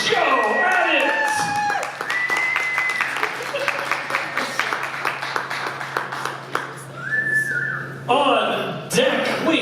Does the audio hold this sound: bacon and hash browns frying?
no